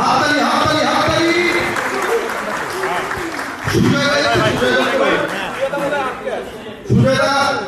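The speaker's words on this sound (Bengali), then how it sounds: "হাততালি" Audience at a movie trailer launch event clapping in bursts, with clear applause rising and falling under loud crowd chatter and voices talking over the clapping.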